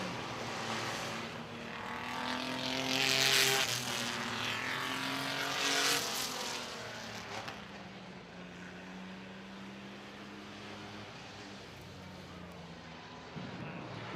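Mini truck feature race at Midvale Speedway, engines droning loudly in a broad roar that swells and fades as trucks pass, then settles to a steadier distant rumble with an announcer's voice underneath.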